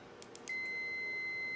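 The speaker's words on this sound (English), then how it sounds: "continuity test on the fluke" A Fluke multimeter on continuity test gives a few short clicks, then a steady, loud, high-pitched electronic beep that holds unbroken to the end.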